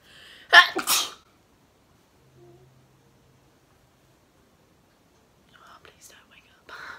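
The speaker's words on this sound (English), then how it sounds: "I need to sneeze." A single loud, close sneeze bursts out near the start, followed by near silence and a few faint rustling sounds toward the end.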